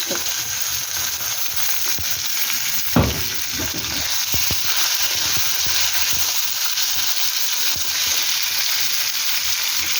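Chicken frying in a pan for a chicken kosha, a steady loud sizzle with an occasional stir or clatter, no voices.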